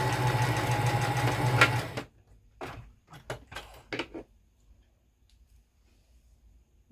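A sewing machine stitches jacket front pieces together, giving a steady close whir for about two seconds. It then stops, followed by a few sharp clicks and taps as the fabric is handled, then near silence.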